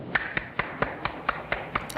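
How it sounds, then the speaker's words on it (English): Two people clap after a speech: a thin, evenly spaced run of about eight sharp claps at a brisk, steady pace, with no crowd joining in. "Only 2 people clapping."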